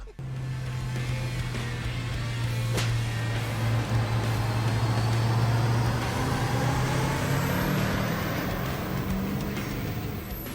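Ford OBS 7.3 Powerstroke diesel truck engine making a dyno pull, a loud, steady droning roar that builds and holds under load with a rising whine, then eases near the end.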